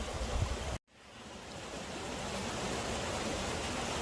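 A river flowing somewhere distant gives a steady broadband rush; the sound briefly cuts out to near silence, then fades back in as a continuous wash.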